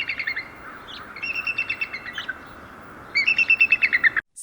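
A Steller's sea eagle gives a series of high, rapid chattering calls in two bursts, the second louder and nearer, over a faint steady background rush.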